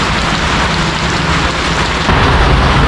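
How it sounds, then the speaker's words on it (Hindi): Loud, steady downpour at night roaring without a break, a dense hiss of heavy rain that swells slightly toward the end. "कितनी तेज़ बारिश है।"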